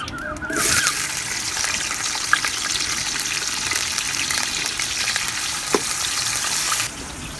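Onions fry in cooking oil in a kadai with a loud, continuous close-up sizzle and a few faint scrapes of stirring, the hiss holding steady before it drops off sharply at the end.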